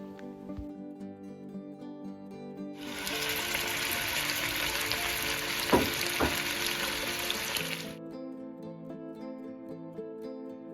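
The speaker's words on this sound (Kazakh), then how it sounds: "үстінен сұйық майды құйып, бағанағы тураған етімізді салып қуырамыз." Chopped meat hits hot liquid oil in a kazan over the fire, and a loud, dense sizzle bursts up for about five seconds before dropping back, with music playing underneath throughout.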